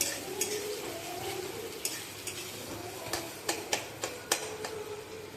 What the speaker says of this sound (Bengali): এবার পেঁয়াজটাকে আমি একটু ব্রাউন কালার করে ভেজে নেব।